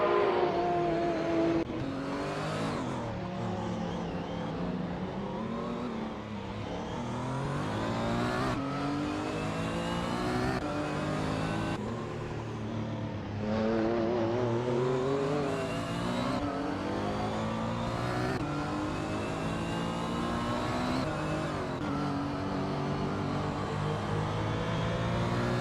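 Retro street race cars from a racing video game lapping the Alastaro GP circuit, engines loud and continuous as they accelerate and shift through gears, with repeated rising revs and no voices.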